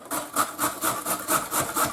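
A carrot rubbed briskly back and forth on a kitchen grater while cooking borscht in a village home, a steady rasping rhythm of about eight close, even strokes with no talk.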